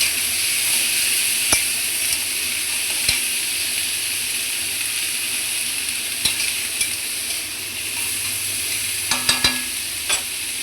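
Carrot, beans, capsicum and potato frying in hot oil in a home kitchen, a steady broad sizzle throughout with a few sharp clicks of utensils against the pan, no voices.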